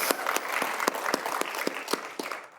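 Audience applause at a charity giving event, moderately loud, with individual sharp claps standing out in an uneven rhythm over a softer bed of clapping that fades toward the end.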